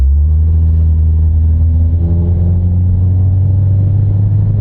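A high-mileage car's engine accelerating, the transmission still shifting smoothly: a loud, steady low rumble with rising engine tones, close and continuous with no talk.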